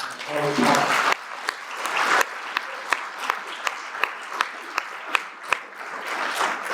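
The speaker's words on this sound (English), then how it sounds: "let's give a round of applause" Applause at a Citizen of the Year chamber event, a dense burst of clapping at first that thins into scattered individual claps, with some crowd speech beneath.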